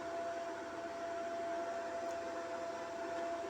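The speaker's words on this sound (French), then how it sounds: "Donc là les ventilos ils tournent toujours," Cooling fans of a 3000VA 24V hybrid inverter run steadily, a continuous close whooshing airflow with a faint constant whine, alone without speech.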